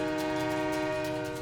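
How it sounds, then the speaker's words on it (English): A loud, sustained horn blares from an oncoming train in the film Hancock, one steady rich tone held without a break for the whole moment. "A train is coming."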